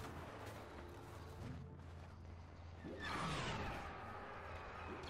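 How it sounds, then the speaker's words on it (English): A smart rocket is launched in Star Wars Battlefront: a rising whoosh and a heavy blast midway through, over a steady rumble of distant battlefield fire and explosions. "Wait, that's a smart rocket"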